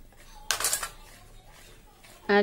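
Dry cake ingredients (flour, cornflour and vanilla) are stirred in a circular motion in a bowl, with a short burst of utensil clinks and scrapes early on and another sharp clatter at the very end.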